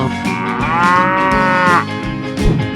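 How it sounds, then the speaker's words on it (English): A cow sound effect from a 3D animal slide video game gives one long, loud, drawn-out moo that rises and falls, close and clear with no talk. "Cow."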